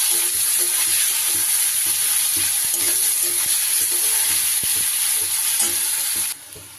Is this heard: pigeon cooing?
no